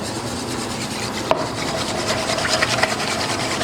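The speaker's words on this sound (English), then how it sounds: "I can use my whisk here and stir that up a little bit more." A whisk stirring honey garlic stir fry sauce in a pan, a continuous close scraping and rubbing with one sharp knock partway through and no talking.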